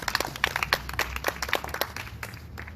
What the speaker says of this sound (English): yes, give a big clap